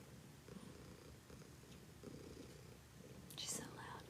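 A cat purrs loudly and steadily up close, a low continuous rumble with faint soft noises on top.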